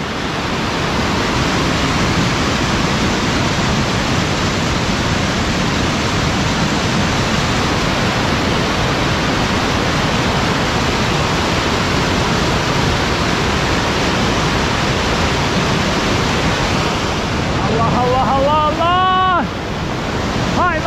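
Aygır Waterfall gushing hard after snowfall, a loud, steady broadband roar of rushing water holding throughout, with a brief whistling or voice-like sound near the end.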